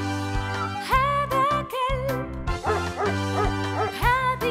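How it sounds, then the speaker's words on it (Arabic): A dog barks in a run of short, sharp, voiced yaps and woofs, repeated in an uneven rhythm, loud and close with no talking over it. "هذا كلب"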